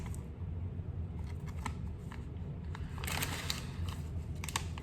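An MRE ration pouch of creamy spinach fettuccine is tugged and strained at, producing bursts of crinkly plastic rustling and scraping close up, intermittent and fairly quiet, with no talking.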